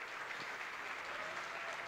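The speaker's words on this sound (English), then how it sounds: "Big applause to Uriel, please. Come on, we can make some noise." Applause for a panelist taking the main stage at a conference, a dense steady wash of clapping from a large audience filling the whole short moment.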